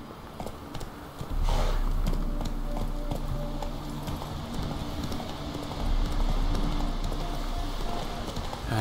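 Roach, the horse in The Witcher 3, gallops with continuous rhythmic hoof clip-clop close by, running steadily over a low ambient bed for several seconds.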